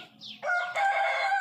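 A chicken calls out nearby, a short rising note followed by a sustained, nasal clucking cry, fairly loud against a quiet background.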